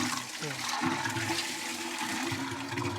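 Water gushes and rushes steadily, like a tap or tank filling, with some low clattering and faint background voices.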